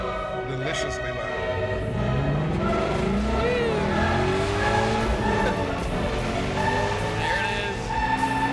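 A street-legal car with catalytic converter and resonator still fitted revs hard, its loud exhaust note rising and falling continuously, close by, with faint skids and tire squeal mixed in.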